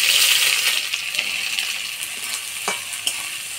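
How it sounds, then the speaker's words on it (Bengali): Chopped onion frying in oil with dried red chillies, bay leaves, cinnamon, cardamom and cloves: a loud, bright sizzle up close with intermittent stirring clinks and scrapes, fading slightly over a few seconds. "পেঁয়াজটা হালকা ভাজা ভাজা করে নিলাম"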